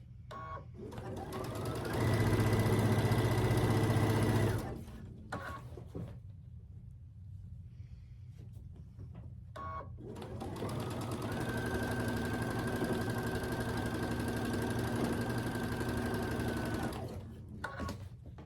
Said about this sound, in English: So I'll stitch a 1/4 inch down this side, making sure it stays lined up.